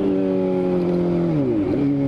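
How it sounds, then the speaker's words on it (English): Straight-piped motorcycle engine, close and loud, droning at a steady pitch before the revs drop and shift, a harsh, throaty note with no voices. "this bike just sounds like a fucking monster because it's fucking straight piped"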